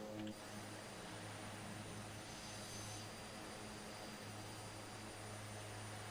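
A float plane's engines roar steadily as the throttles are run forward for takeoff, giving a loud, broadband propeller drone with a faint whine and no speech.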